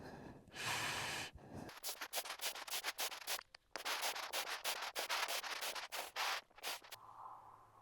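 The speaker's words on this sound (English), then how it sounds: "Give it a good scrub now with acetone everywhere," Fiberglass and wood on a boat flybridge are scrubbed with acetone, a rapid series of close, raspy rubbing strokes with short pauses and some breathing nearby.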